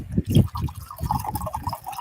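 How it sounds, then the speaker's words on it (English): A drink mixer pours from a bottle into a glass with gurgling and splashing close by, moderately loud, in a steady run of liquid glugs. "And it usually pours out perfectly."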